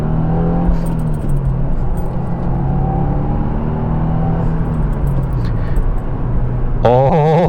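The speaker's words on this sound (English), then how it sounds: "This car can pick up." A 2024 Subaru WRX base model pulls hard from inside the cabin, its engine note rising and falling steadily under loud road rumble, with a sharp revving surge near the end.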